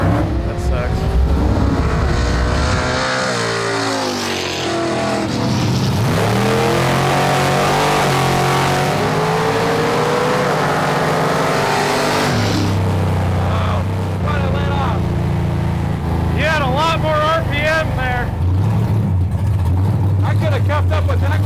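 A 440-powered Studebaker gasser makes a drag racing pass. Its engine roars loudly and revs up through several rising sweeps, then the sound fades and shifts as the car travels. People talk over parts of the run.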